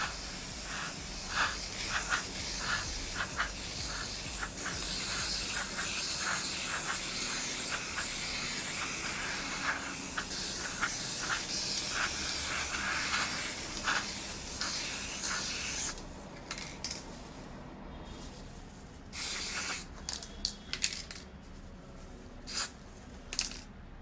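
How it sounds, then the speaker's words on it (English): Glass frosting liquid sprays from a spray bottle in a steady, close hiss of repeated pumps for about fifteen seconds, then a few shorter separate bursts follow with quiet gaps between. "So just spray it once, see if the liquid is coming, and then in an even pattern"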